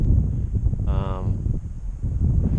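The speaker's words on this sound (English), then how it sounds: "It would be cool if there were no wind today." Wind blows around a KooTai KAI-84 gyro-stabilized RC plane flying outdoors, a steady rough buffeting on the microphone with a brief thin motor whine passing through and muffled voices underneath.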